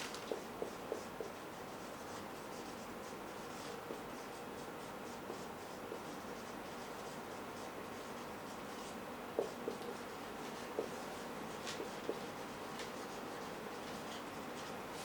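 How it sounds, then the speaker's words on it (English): A title is being written on a classroom board, giving faint, steady scratching strokes with a few light taps scattered through. The sound is quiet and close, and no one speaks. "So I write"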